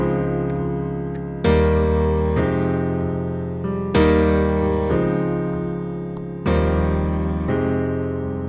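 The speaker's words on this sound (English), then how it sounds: "That is the intro, and that's actually played on piano." A piano plays the intro chords of a song: sustained chords struck every couple of seconds in a slow, even rhythm, each ringing and fading before the next, with no voices.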